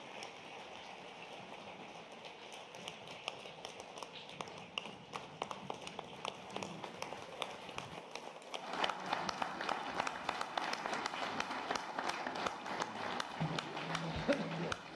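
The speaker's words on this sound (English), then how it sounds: "Please celebrate the election of the new CAF president through your applause." Audience applause at the CAF Ordinary and Elective General Assembly greets the election of the new president, steady dense clapping through the hall that swells louder partway in and keeps going.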